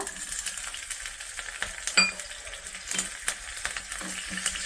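Steady sizzling of green chillies and mustard seeds frying in hot oil with occasional clinks of a utensil against the pan, close and continuous.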